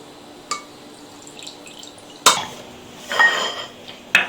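Hill lemon juice from a hand juicer poured into a bowl for pickle, a few soft drips and clinks of the juicer against the bowl, close and sparse with quiet gaps.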